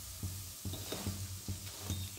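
Cashew pakoras sizzle in hot frying oil as they are lifted out, a constant close hiss punctuated by regular scooping clinks of a utensil roughly every half second.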